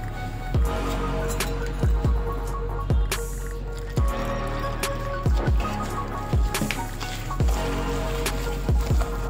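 Water being stirred into a gram flour batter for mirchi bajji, giving a steady series of wet, squelching mixing strokes about once a second, close and moderately loud with no voices.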